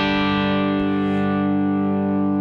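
Electric guitar with two pickups combined out of phase for a thinner, acoustic-style tone, a single sustained chord ringing steadily and evenly with no talking.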